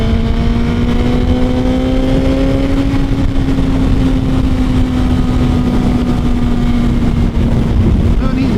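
A Suzuki GSX-R1000 sport motorcycle engine drones steadily at speed while riding, its pitch holding fairly even with a slight rise, under heavy wind rush throughout.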